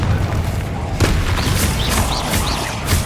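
Confringo blast spell from Hogwarts Legacy, a loud explosive boom with crackling burst, followed by further thuds and magical whooshes amid ongoing combat noise, close and dense.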